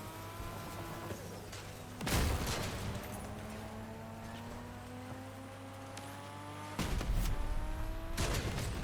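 Heavy gunfire from vehicle-mounted weapons in the Crossout combat game: loud broadband blasts around the middle and end, over a steady droning engine hum with shifting whines.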